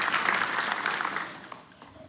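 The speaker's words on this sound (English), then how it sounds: "A round of applause, please." Applause from attendees of the International Maritime Congress in Szczecin, a dense burst of many hands clapping in a hall that gradually tapers off toward the end.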